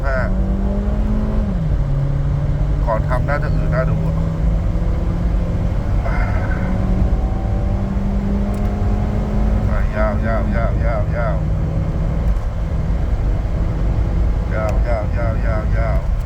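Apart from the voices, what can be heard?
Honda Freed car accelerating during speed test, stock engine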